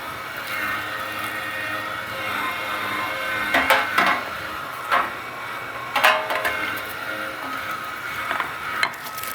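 Meat grinder working frozen venison for brats, a steady mechanical whir and grinding hum with several louder clunks and scraping bursts as chunks feed through, close and continuous, without talk.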